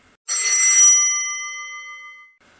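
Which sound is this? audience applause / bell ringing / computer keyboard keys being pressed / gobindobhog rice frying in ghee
bell ringing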